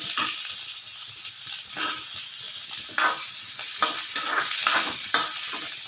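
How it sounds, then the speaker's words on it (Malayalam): Sliced onions are stirred and fried in oil for a chutney. A crackling sizzle comes close up, broken by repeated bursts of spatula scraping against the pan, with no one talking. "സവാള ഇടാം. ഇത് നന്നായി ഇളക്കുക."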